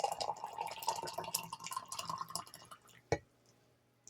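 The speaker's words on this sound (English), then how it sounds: "I'm going to pour me some" Tea pours from a spout into a cup, a close trickling and splashing stream lasting a couple of seconds, then stopping, followed by a single soft clink.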